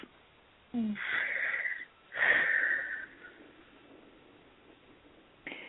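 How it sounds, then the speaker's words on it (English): A slow, audible breath is drawn in and then let out, close and soft against quiet room tone, with a brief click at the very end. "I invite everybody to take a breath."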